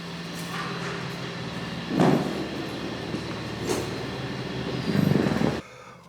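An elevator's doors open on the ground floor with a low rumbling slide and a couple of soft thumps, close by, under a steady hum.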